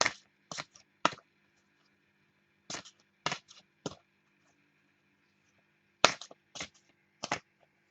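Cards from a Talking to Heaven oracle deck are shuffled and drawn in short, crisp bursts of riffling and snapping, separated by pauses of quiet, close and fairly soft.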